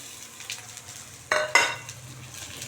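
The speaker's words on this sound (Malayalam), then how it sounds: "ഇപ്പം ഞാനിതാ തേങ്ങ ചേർക്കും" Grated coconut tipped into a pan of roasting coriander for a Kerala theeyal curry: two short, close sizzling bursts over a soft background of stirring and frying.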